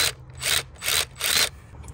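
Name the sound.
removing the 10mm nut holding the EGR solenoid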